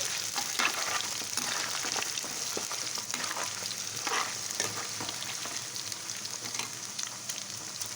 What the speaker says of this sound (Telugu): స్టవ్ మీడియం ఫ్లేమ్లో పెట్టుకొని వేయించుకోవాలన్నప్పుడు బాగా వేగుతాయి